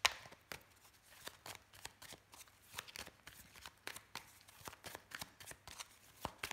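Lenormand fortune-telling cards are shuffled by hand in a quick, irregular run of soft riffling slaps, close and quiet, with no talk.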